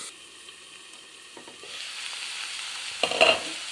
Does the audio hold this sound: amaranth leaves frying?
yes